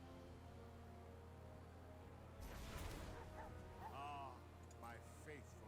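A dog token in a Dimir Control game of MTG Arena barks and whimpers as it is created, a short burst of yips over a steady low game hum.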